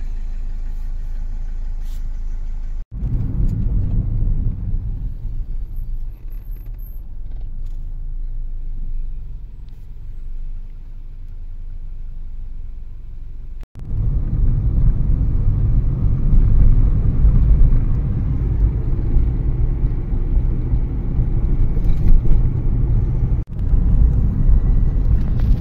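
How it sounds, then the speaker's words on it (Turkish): Heavy evening street traffic in Bishkek: a steady, loud rumble of car engines passing nearby, with the roar swelling further in the second half. "Bayağı bir yoğun trafik var"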